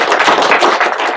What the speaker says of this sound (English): Round of applause for Shankar.